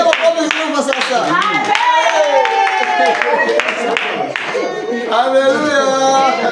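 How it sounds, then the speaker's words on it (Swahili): A church congregation bursts into sustained clapping and applause for the preacher, loud and continuous with voices mixed in throughout. "Simpigie makofi sasa."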